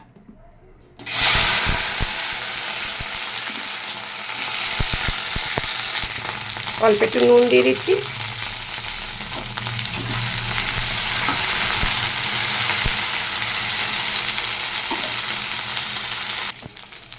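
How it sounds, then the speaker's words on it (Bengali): Okra fries in a pan with a loud, continuous close sizzle and bursts of stirring. A person speaks briefly over the frying. "ভেন্ডি ভাজাটাকে বসিয়ে দিচ্ছি।"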